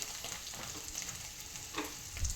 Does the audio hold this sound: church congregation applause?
no